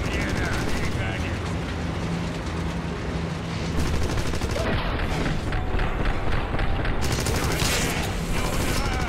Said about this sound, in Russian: Поздновато я стреляю